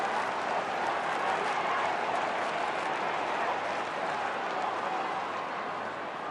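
A stadium crowd of nearly ninety thousand roars at an Essendon v Collingwood AFL match in 2011, a dense steady wash of cheering and applause that keeps going without a break and fades slightly at the end.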